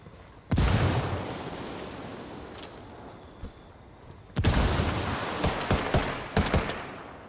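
Frag grenade blasts in the Ghost Recon Wildlands video game, two sharp explosions a few seconds apart with lingering rumble and scattered gunshots after the second.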